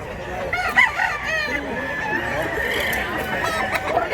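Game fowl rooster, a bullstag kept in the mountains, crowing nearby with clear drawn-out calls and clucks, mixed with people talking over a busy outdoor background.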